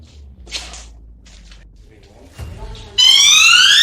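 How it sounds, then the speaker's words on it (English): An alarm gadget set off after someone taps a metal morgue table inside an old asylum during a paranormal investigation: a loud, steady, high electronic tone starts suddenly and runs to the end, following quieter shuffling noises. "You can tap the morgue table and make that alarm go off over there"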